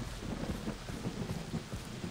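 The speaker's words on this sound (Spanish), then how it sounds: "Bueno, y que truena y todo" Thunder rumbles through a torrential rainstorm in the video game Far Cry 3, a steady dense wash of rain with low rolling booms, heard alone without speech.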